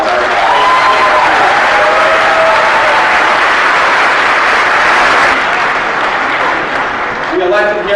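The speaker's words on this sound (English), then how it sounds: "we should give him a big round of applause." A large crowd at an Arizona Democrats political gathering gives a sustained round of applause, dense and loud clapping with some cheering, continuing steadily for several seconds.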